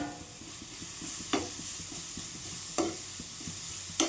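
Beetroot sautés in oil over low heat, giving a soft, continuous sizzle with a spatula scraping and stirring, plus three sharp utensil taps against the pan at intervals.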